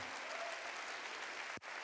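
A church congregation at a Korean service claps briefly, a faint, even patter of applause lasting under two seconds with a short dip near the end.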